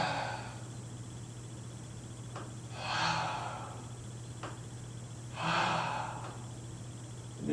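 Long, deep breaths during a yoga pose, two slow airy exhales spaced a few seconds apart over a steady low hum, close to the microphone.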